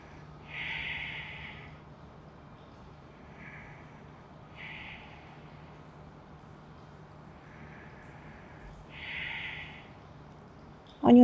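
Slow, deep yoga breathing in a calm session, with several soft airy breaths spaced a few seconds apart, close and gentle, and no talking.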